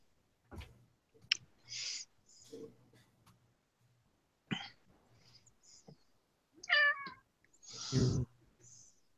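A cat meows several times in short, separate calls with pauses between them, close and fairly loud, some rising in pitch.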